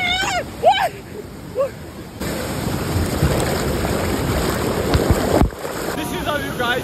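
Fast, icy-cold water rushes past in a broad, steady roar, close and loud for several seconds, with a voice speaking over it at the start and again near the end.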